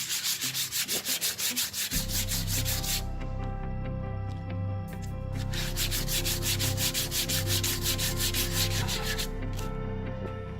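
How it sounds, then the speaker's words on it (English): Wood being sanded on a handmade guitar body, a steady rasping rub that runs nearly throughout, with strokes surging and easing in repeated bursts; close and fairly loud, no talking. "So I will start sanding now, and of course I need some protection."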